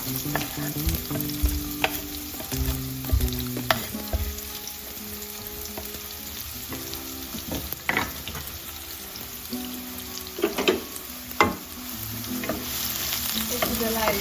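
Red chilies frying in hot oil in a pan for a Nepali gundruk, potato and taro curry, with a steady sizzle and repeated scraping stirs of a utensil, close and continuous, no talk.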